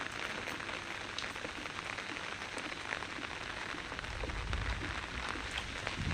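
Light rain falls steadily on a household courtyard, a continuous close hiss of drops on wet ground with scattered individual patters and no voices.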